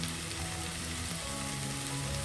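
Turmeric, coriander, garam masala and chili powders fry in oil for vendakkai poriyal, an okra stir-fry, giving a steady, close, even sizzle with no one talking.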